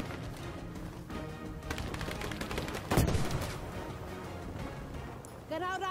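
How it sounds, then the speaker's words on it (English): Gunfire in the video game Battlefield V, rapid bursts and one heavier blast amid constant battle noise, with someone talking over it. "Oh, somebody's shooting me."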